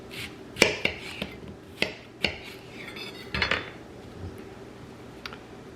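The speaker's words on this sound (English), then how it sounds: "I'm just gonna slice my onion" A knife slicing an onion on a board in a home kitchen while making pot roast, a handful of crisp, irregular cuts and clicks, close and fairly quiet, with no talking.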